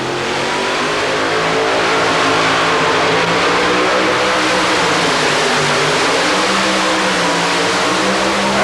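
A two-wheel-drive pulling truck revs hard through a full truck-pull run in an indoor arena in Atlanta in 1990, its engine a loud, continuous, roaring drone that holds steady from start to finish.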